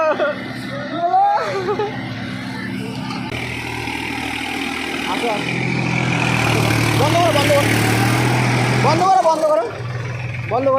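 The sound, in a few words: tractor engine running, New Holland 3600-2 or Mahindra Novo 585DI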